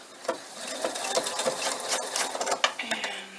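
A sewing machine stitches a fabric bunny bag up close, its needle chattering in quick uneven bursts with small pauses as the cloth is guided.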